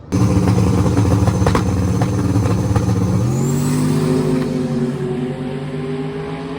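Drag racing cars launch down the strip at Drag Week 2023, a loud roaring engine note close by that holds steady, then climbs in pitch as the car pulls away, with no talk over it.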